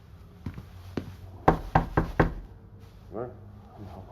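Knocking on a door in a video game, a few sharp raps followed by a quick cluster of four louder knocks, close and clear, then a voice speaks briefly afterward.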